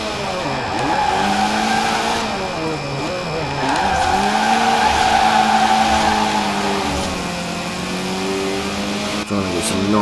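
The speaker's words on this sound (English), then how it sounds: "Trying to get some nice drifts in there." A car drifts through city streets in Forza Horizon 4, its engine revving loud and continuous with pitch swoops as the tires squeal and skid.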